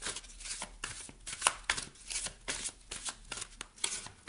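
Tarot cards are shuffled close up in a steady run of quick riffling, flapping bursts with no speech.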